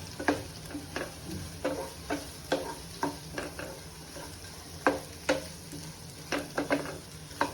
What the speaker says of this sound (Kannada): ಈಗ ನಾನು ಹಸಿಮೆಣಸಿನ್ಕಾಯಿ ಹಾಕ್ಕೊತಿದ್ದೀನಿ